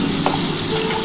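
Radish seasoned with turmeric fries in a pan with a steady, close hiss of sizzling oil. A brief scrape of stirring sounds early on, and no voices are heard.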